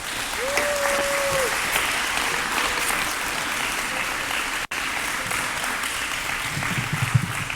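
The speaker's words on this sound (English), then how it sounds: "Can I have a round of applause for all of you" Audience applause at a ribbon cutting for a Family YMCA expansion in Monroe, a steady dense wash of clapping throughout with a brief dropout midway and a few louder claps near the end.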